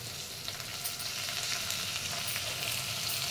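Tomatoes fry in a pan for masala rice, giving a continuous, dense hiss and crackle of sizzling oil that stays steady and close throughout, with no talking.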